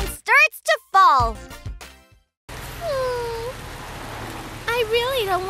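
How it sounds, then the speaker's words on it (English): Cartoon rain falls as a steady soft hiss behind chirpy animated voices, with a brief silent gap before the downpour settles in and talk continues over it. "Pitter-patter, the rain starts to fall."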